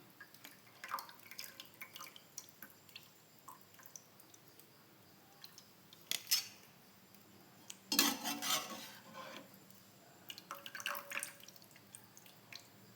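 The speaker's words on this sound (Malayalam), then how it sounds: "ഇനി ഞാൻ തണുത്ത വെള്ളത്തിൽ നിന്ന് ഊറ്റിയെടുക്കട്ടെ. നമ്മൾ അരിപ്പയിലേക്ക് എടുത്ത് മാറ്റുന്നുണ്ട്." Sliced potatoes being drained from cold water into a kitchen strainer, with soft drips, light clinks and a few sharper splashing rattles scattered through an otherwise quiet kitchen.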